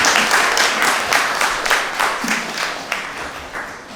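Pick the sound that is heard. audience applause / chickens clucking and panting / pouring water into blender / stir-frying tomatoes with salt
audience applause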